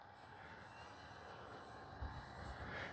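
A Dynam Me Bf-109 radio-controlled model plane drones overhead in a steady, distant engine hum, with a slight swell in loudness toward the end.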